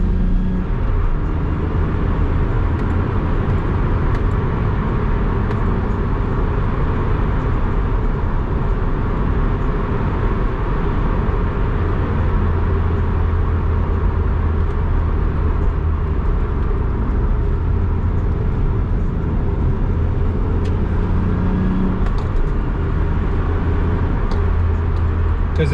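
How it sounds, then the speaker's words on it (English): A car with no carpets and a straight cut gearbox, its loud steady whine and engine drone filling the cabin continuously and close, with no talking. "also sounds like a straight cut gearbox. it whines."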